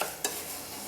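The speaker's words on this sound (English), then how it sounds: "Now stir until the couscous has absorbed all the butter" Couscous being stirred in butter in a pan, a soft close scraping and faint sizzle with one brief louder scrape near the start.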